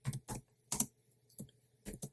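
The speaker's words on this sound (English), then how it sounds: "you're just going to type bash, you're going to type source" Commands typed on a computer keyboard in short clusters of close, crisp keystrokes separated by brief pauses, with no talking.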